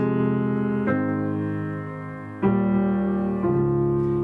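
Three sustained piano chords, voiced with the third raised an octave, ring out one after another, each struck cleanly and left to decay, in a calm, slow progression.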